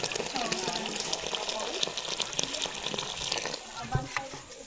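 Water poured into a cooking pot for a fish dish, a close splashing gush that runs throughout while someone talks over it.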